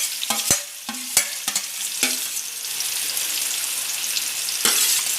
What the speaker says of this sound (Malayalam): ഇനി അതിലേക്ക് നമുക്ക് നമ്മുടെ ഉള്ളി ഇടാം